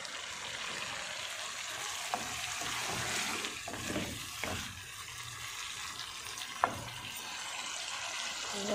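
Mutton karahi cooking down in a pan, a soft steady sizzle with light stirring and a few brief clinks, low and even throughout.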